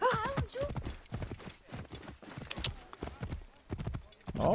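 Clip-clop of a horse's hooves in the Assassin's Creed Origins video game, riding out toward farmland; steady trotting footfalls with a brief whinny at the start, while someone talks over them.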